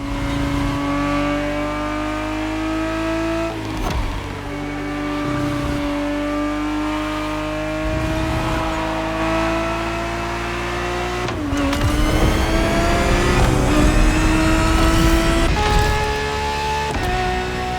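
Ferrari 365 GTB4 V12 engine racing in The Crew Motorfest, revving steadily with pitch climbing through gears, a sharp dip and shift near the middle, then pulling hard again, loud and continuous with no talk.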